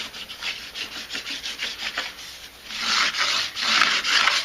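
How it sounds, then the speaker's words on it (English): Chalk is rubbed back and forth across a chalkboard to season it, a close, rhythmic scraping rub that grows louder and broader toward the end. "you're going to rub this chalk all over it"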